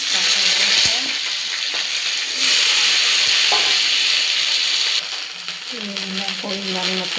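Okra fries in oil with dry red chili, whole cumin and green chilies, a loud continuous sizzle with stirring scrapes, while a voice briefly talks over it.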